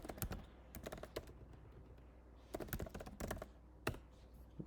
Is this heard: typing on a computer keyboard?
yes